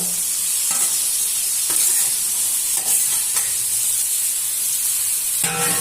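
Chicken pieces dropping into onions and chillies frying in a kadai, producing a loud, steady, close sizzle with occasional stirring clatters and no talk.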